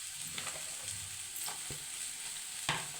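Cashews frying in oil in a pan while paneer curry is being made: steady soft sizzle with a few sharp clicks and scrapes from stirring, close by and with no voices.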